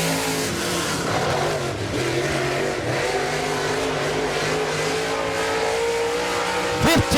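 A race car engine roars steadily at close range as the car pushes through turns 3 and 4, its pitch slowly rising under load, with a sharp swell of engine noise at the very end.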